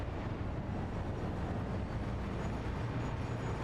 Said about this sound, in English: I would have thought this train would have been a little bit faster on its trips